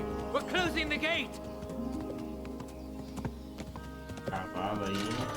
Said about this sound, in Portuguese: Cavalo aí.